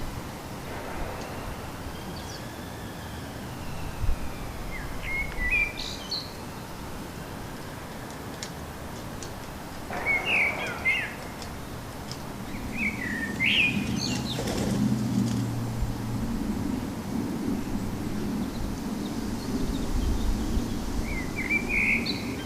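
Bursts of flapping wings from fighting pigeons at a feeder break out several times amid scuffling, with brief chirps and a steady low background rumble.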